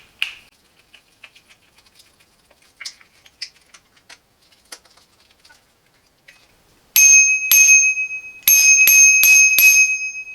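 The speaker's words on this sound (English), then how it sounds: "And of course we have the bell." After some light tapping and clicking, the bell on a DYU C3 14-inch foldable electric bike rings several times in quick, bright dings, loud and close.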